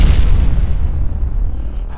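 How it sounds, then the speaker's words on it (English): A huge explosion booms from the basement beneath a factory's ground-floor lobby, a deep low rumble that rolls on and thunders for the full two seconds with no voices. "Out of nowhere, there was this huge kapow! Like an explosion right under my feet."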